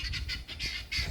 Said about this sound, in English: There's the guinea fowl because they know what time it is.